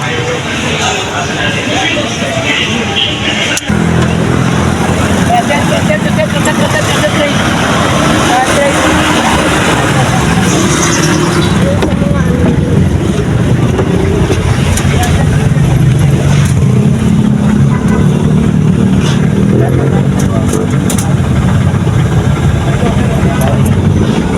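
A tricycle engine drones steadily through a ride on a Filipino school day, mixed with road noise and traffic, with people talking over the rumble throughout.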